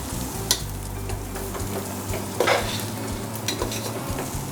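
Ghee rice ingredients fry and are stirred in a hot pan, giving a steady close sizzle with a few sharper scraping bursts of the spoon.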